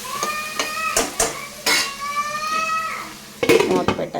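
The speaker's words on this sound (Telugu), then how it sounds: "మూత పెట్టేద్దాం." Metal clatter of a lid being handled and set onto a cooking pot of onions for mushroom and cashew curry, several sharp clanks with ringing tones that fade out, then a final rattling placement.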